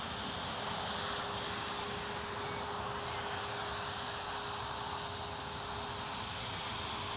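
An EasyJet airliner arrives at Newcastle, its engine roar a steady, fairly quiet wash of broad noise with a thin whine held throughout, alone without voices.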